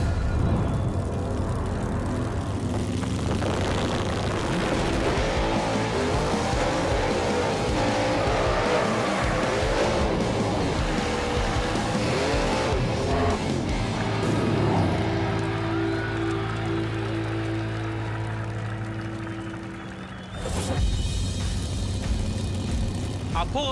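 A 1968 Camaro drag car on a no-prep street racing strip roars loudly and continuously, the engine note swelling near a launch, with crowd noise around it and a sudden burst near the end.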